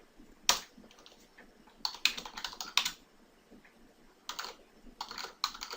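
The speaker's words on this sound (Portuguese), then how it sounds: "eu vou digitar a pergunta aqui no bloco de notas" Typing a question into Notepad on a computer keyboard: close, crisp key clicks in uneven bursts and short runs, with quiet pauses between.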